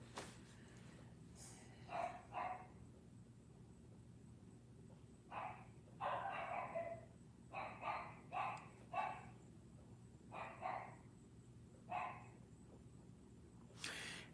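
Dogs barking off in the distance in short, scattered bursts over a steady low hum, fairly faint and with no voices.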